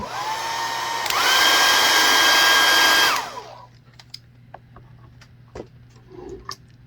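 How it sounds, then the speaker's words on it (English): A hair dryer blow-drying paint: a loud, close whine that rises when switched to a higher setting, runs steadily for about three seconds, then winds down into small ticks and clicks. "And then I'm going to give it a quick blow dry."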